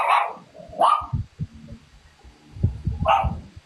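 A small one-year-old poodle barks in short sharp yaps, a few separate barks spaced across a few seconds, close and fairly clear.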